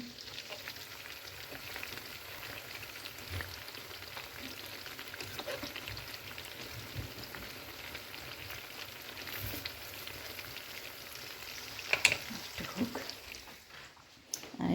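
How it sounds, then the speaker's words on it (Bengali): Chicken fry sizzles steadily in a pan, a continuous dense crackle and hiss at moderate loudness that holds throughout, with a brief clatter near the end and no speech. "এই তো চিকেন ফ্রাই বসাই দিচ্ছে"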